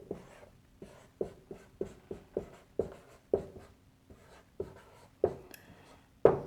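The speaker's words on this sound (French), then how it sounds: "Ça, je vais écrire en rouge." A marker squeaks and taps across a surface in short, separate strokes, about a dozen quick scribbles in a quiet room with no talking.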